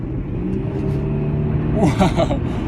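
Audi A6 with a 250-horsepower engine accelerating hard, a steady loud rumble from inside the car with a voice speaking over it near the end.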